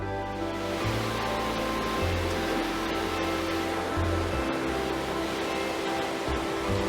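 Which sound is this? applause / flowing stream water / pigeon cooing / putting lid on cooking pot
flowing stream water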